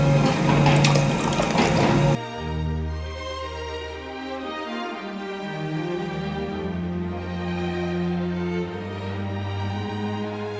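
Water poured into a cooking pot while making habisa dalma, a lentil dish, with a loud splashing pour at the start that gives way to a softer, steady bubbling and hissing.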